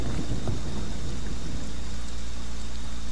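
Steady, dense rain pours with a low rumble of thunder in a video game, loud and continuous throughout with no voices.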